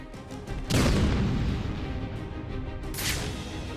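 A grenade blast in the Batman Arkham City video game lands as a loud, close boom with a broad rumbling burst that decays slowly, followed by a second, lighter crack about two seconds later.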